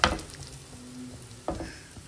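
Sweet potato tikkis sizzling in ghee on a griddle, a steady close frying hiss with a couple of brief scraping stirs, no voices.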